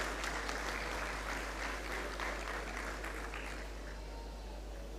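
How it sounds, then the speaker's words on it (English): An audience at a school valedictory service claps for the mathematics Olympiad team, a broad sustained round of applause that holds steady and then eases slightly toward the end, with no talking over it. "Yes, man, clap them."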